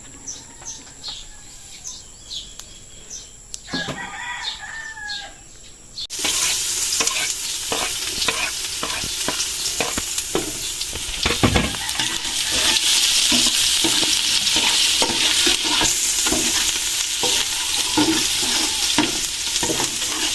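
Garlic and onions hit a hot pan for sopas, breaking into a loud, steady sizzle with stirring scrapes, after a quieter opening where birds chirp in the background.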